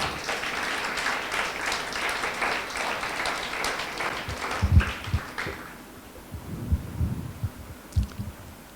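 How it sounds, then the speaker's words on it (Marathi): A church congregation gives a loud round of applause, a dense wash of clapping for several seconds that tapers off, leaving scattered low thumps and room noise. "परमेश्वराला एक जोराने आपण टाळ्या देऊयात."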